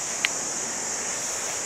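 A small spring-fed stream runs under a little footbridge on its way to a river just below, giving a steady, even rush of flowing water with no voices.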